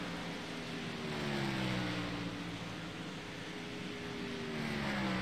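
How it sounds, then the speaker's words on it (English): Race cars at Texas Motor Speedway during a NORA asphalt event, heard as a steady broad engine roar with drawn-out passing tones swelling and fading, loud and continuous with no talk. "I do hear several other cars."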